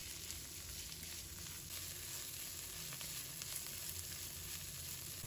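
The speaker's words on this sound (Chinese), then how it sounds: "再把香菇、豆腐干放入锅中，继续把它们炒散炒香" Pork belly, shiitake mushrooms and dried tofu sizzle and fry in a wok as they are stir-fried, a soft, steady crackle throughout with no speech.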